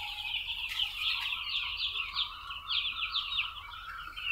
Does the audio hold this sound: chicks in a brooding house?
yes